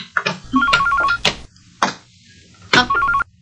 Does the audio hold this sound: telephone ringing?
yes